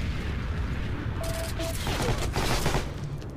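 Gunfire in the World War II shooter Heroes & Generals: a dense burst of rapid shots and booms through the middle of the clip, over a constant loud battlefield din with a brief tonal whine.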